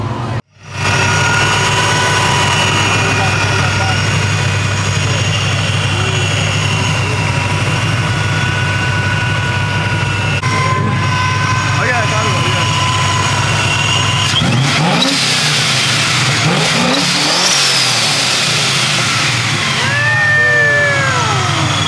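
A 1LE car engine idles with a steady, deep, close rumble at an Atlanta car meet, with a few brief revs near the end and other vehicles faintly audible behind it.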